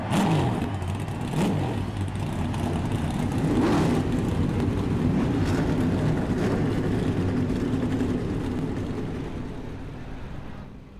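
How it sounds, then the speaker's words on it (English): Race car engines starting and revving in the iRacing game at Pocono for an eNASCAR race, a loud layered engine drone with several rising and falling revs that overlap, fading slightly toward the end, no voices. "drivers, start your engines"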